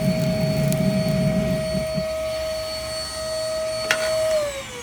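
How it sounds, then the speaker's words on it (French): An ash vacuum cleaner sucks up ashes with a steady, close, continuous whine and hum, then its pitch drops as it winds down near the end. "Ça aspire uniquement la cendre."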